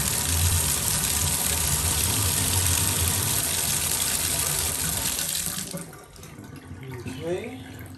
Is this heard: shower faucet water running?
yes